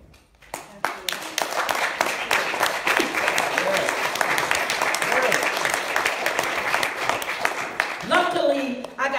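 Sustained audience applause at a speech against militarism and war, dense clapping filling the room for about eight seconds before tapering as a voice begins near the end.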